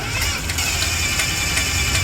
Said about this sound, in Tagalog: Nangingay yung makina.